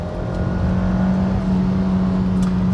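Hyundai Kona AWD small SUV taking a corner, a steady loud engine drone with a constant low tone and tyre rumble, held evenly throughout with no talk.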